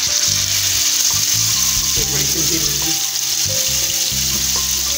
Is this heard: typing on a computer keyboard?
no